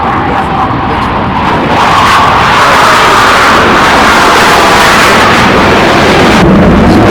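A T-45 jet trainer roars overhead, its broad rushing noise swelling louder and holding steady, then shifting as it passes, with no one speaking.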